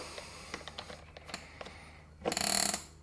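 A part on an electric mountain bike is tightened with a tool, producing a run of quick ratcheting clicks followed by a denser burst of mechanical ratchet noise, close and fairly quiet.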